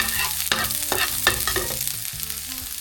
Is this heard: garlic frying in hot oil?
yes